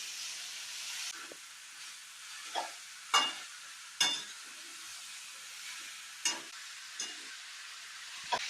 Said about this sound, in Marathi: आता आपण गिलक्याच्या फोडी टाकूया आता छान खालीवर भाजी करून घेऊया टाळून घेऊया